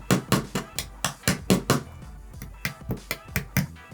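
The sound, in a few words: scissors knocking a needle through a card like a hammer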